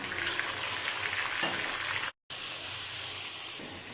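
Chopped tomatoes fry in a pan for sarson ka saag, giving a loud, steady, close hiss and sizzle that drops out for a split second, then carries on with no voices.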